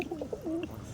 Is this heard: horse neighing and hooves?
no